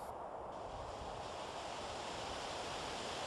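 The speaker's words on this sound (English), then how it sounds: "Ooh, I'm hearing water." Rushing water and waves in a ship-sinking video game, a steady dense wash of noise with no breaks, alone and fairly soft.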